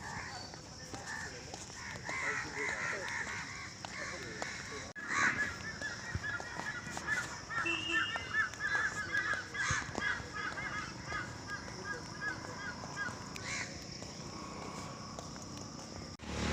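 Crows cawing in the dark before dawn over an open ground during an early-morning walk, repeated calls at a moderate distance within a faint ambient hiss, with some vocal sounds mixed in.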